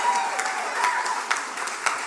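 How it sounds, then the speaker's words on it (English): A handful of people clapping, roughly four, in scattered, uneven claps that are fairly close and of moderate loudness, with a faint voice behind them. "That sounded like 4 people clapping."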